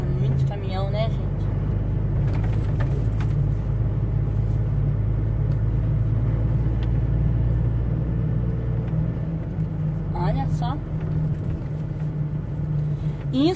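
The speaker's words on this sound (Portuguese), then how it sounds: "É muito caminhão, né, gente?" Heavy trucks idle and rumble at a dry port grain terminal where grain is loaded onto trains, a continuous low engine drone with occasional squeals and hisses and a voice talking faintly beneath.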